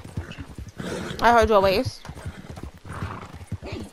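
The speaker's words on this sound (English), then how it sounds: "just jump on my horse. And then we ride the horse together." Horse hooves clip-clop in a steady, rapid galloping rhythm in a video game, continuous and fairly close, with people chatting over it.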